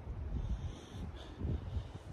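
Steady wind buffeting the microphone outdoors by Lake George on an overcast day, low rumbling gusts rising and falling throughout, with a faint watery wash of the lake in the background.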